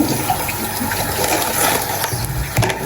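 Tap water runs steadily in a household kitchen while a lid and other items are washed, a continuous close rushing splash with no talk over it.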